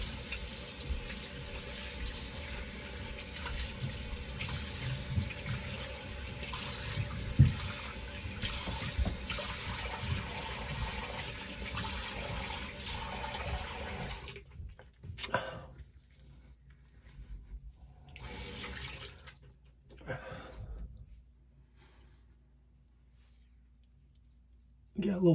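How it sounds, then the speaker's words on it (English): A tap runs steadily over a safety razor being rinsed in a sink, a close, continuous water rush that cuts off midway, followed by a few short bursts of running water between quieter gaps. "let me just do a quick rinse"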